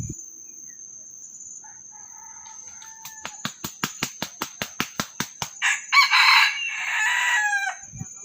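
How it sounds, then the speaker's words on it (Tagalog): A rooster crows loudly nearby, opening with a rapid string of sharp repeated notes that swell into a long drawn-out call, with faint insects chirping steadily behind it. "Yun yung tilawak ng ating Kano mga master."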